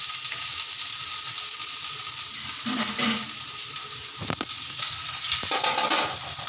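Onions frying in hot oil with fennel and garam masala for a chickpea curry: a steady, close sizzle runs throughout, with a few sharper clicks and utensil scrapes near the end. Nobody speaks.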